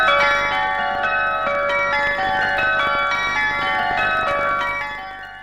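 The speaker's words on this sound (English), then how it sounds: "Campanology, the art of bell ringing, was on full display in Spitalfields this afternoon." Church bells pealing in Spitalfields, London, several tuned bells struck in overlapping rounds, loud and sustained, ringing on without pause and fading slightly at the end.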